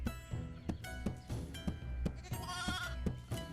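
A young lamb bleats over and over, its high, wavering cries close and clear, coming in quick succession with no talking.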